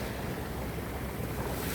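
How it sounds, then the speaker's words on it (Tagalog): Soft, steady wash of sea waves with a breezy rumble, faint and continuous, no voices. "Yung alon. Lumalapit na sa akin."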